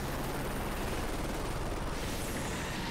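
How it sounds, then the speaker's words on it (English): A helicopter flies over a combat battlefield in a military video game, a steady dense whooshing roar holding at constant loudness throughout with no talk. "It sounds like a helicopter is flying over."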